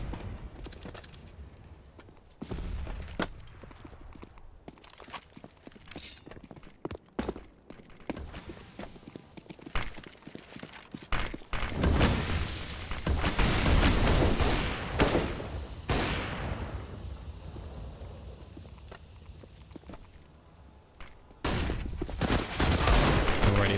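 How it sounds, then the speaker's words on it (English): Counter-Strike gunfire on the Train map, with pistol and rifle shots in rapid bursts and sustained fusillades mixed with footsteps and game noise, loud and dense throughout. "There goes Torben with the pistol"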